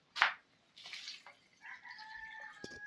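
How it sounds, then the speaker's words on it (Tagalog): About a glass of water is poured into a cooking pot of vegetable broth, giving a sharp splash followed by softer trickling and a few small drips, close and quiet. "Dagdagan natin ng tubig."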